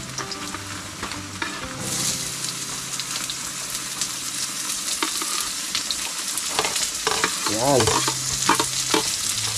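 Onions fry in a hot pan for a laing dish, a loud, close crackling sizzle with stirring scrapes throughout, while a voice speaks briefly once.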